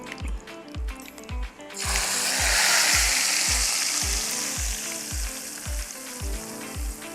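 Hot coconut oil tempering with mustard seeds and curry leaves is poured into a coconut-milk cauliflower curry, erupting in a loud, sustained sizzle midway while steady rhythmic thumps from a regular beat continue underneath.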